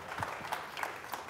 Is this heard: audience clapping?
yes